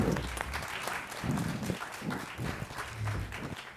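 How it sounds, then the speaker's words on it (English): An academic conference audience applauds in a soft, continuous patter, with low murmuring voices mixed in throughout. "Let us give them a round of applause."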